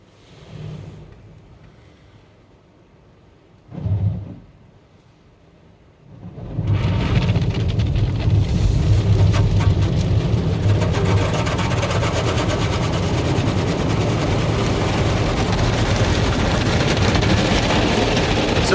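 A Ryko SoftGloss MAXX 5 car wash machine at a gas station runs its wheel blasters, beginning with quiet rumbles and a brief thump, then surging into a loud, steady roaring spray that fills the rest of the clip.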